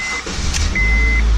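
A 2006 Honda Civic engine cranking on its starter with a remote start system being installed, a short loud low whirring crank heard up close after a brief electronic beep.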